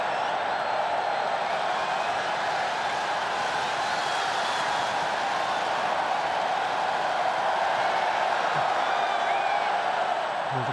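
A large stadium crowd at an international football friendly between the Republic of Ireland and Spain at Yankee Stadium keeps up a steady, loud roar and murmur throughout, with faint scattered shouts and whistles rising above it.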